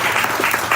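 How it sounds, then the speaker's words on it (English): Brief burst of audience applause at a press conference for a co-working space and incubator, a dense, steady wash of many hands clapping together with no break. "let's give everyone a round of applause that we made it and we're here"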